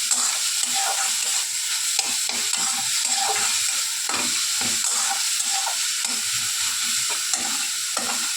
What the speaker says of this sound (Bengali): খুব ভালো করে নেড়ে নিচ্ছি।